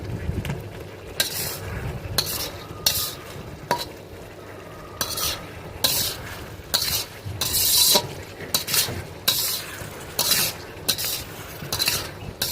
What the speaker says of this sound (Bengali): এবার আমরা দিয়ে দিচ্ছি আগের থেকে কেটে রাখা আলু